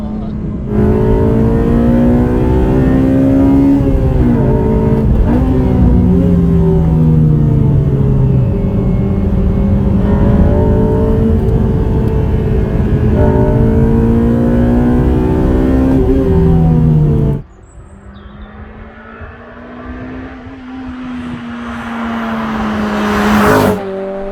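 Honda Civic Type R FD2 Mugen RR driven hard on a track, its engine close and loud with rising and falling revs for most of the run, then dropping abruptly to a quieter rumble under braking before climbing again.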